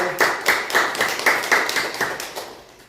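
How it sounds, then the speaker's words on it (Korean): Church congregation at a Sunday service clapping together in a steady, rhythmic beat, about two claps per second, fading out toward the end. "박수로 영광 돌려드리겠습니다"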